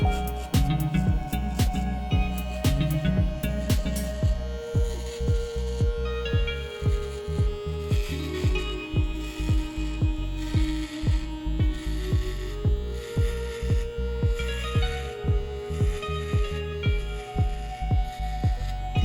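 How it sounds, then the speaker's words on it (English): An electric hair trimmer runs during a bald fade haircut, giving a steady low buzzing hum with a regular throbbing pulse, close and continuous throughout. "The rest of the hair cut it with the trimmer."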